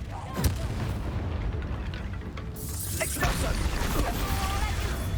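A fire spell cast in Hogwarts Legacy bursts out as a deep, booming whoosh with crackling flare, followed by further rumbling impacts, with a voice talking over part of it.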